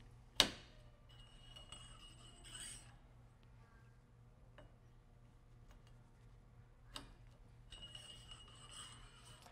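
Metal clamps slide into place on a roll bar wrapped in duct tape, giving faint scraping rubs and a few sharp metallic clicks and clinks spread across a quiet background.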